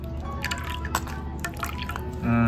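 Crab broth strained through a sieve, with liquid dripping and trickling steadily into a vessel at close range, ending in a louder rush of pouring.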